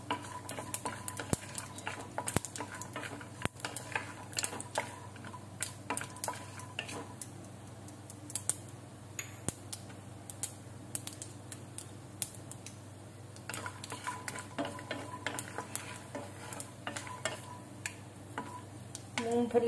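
Peanuts roasting in a pan over medium gas for Indori poha, stirred with a utensil: soft scraping and clinks recur through a steady low background hum, moderately close and fairly quiet, with no talking.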